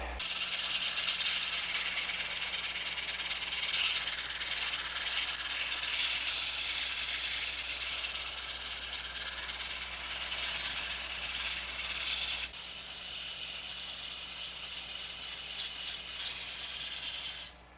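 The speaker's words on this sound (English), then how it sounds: "So we'll get this sanded up and move forward" Steady abrasive hiss of sanding a spalted ash dice box, continuous and fairly loud with a brief shift near the end, worked up through finer grits to 400.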